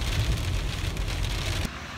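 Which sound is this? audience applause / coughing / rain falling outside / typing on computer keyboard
rain falling outside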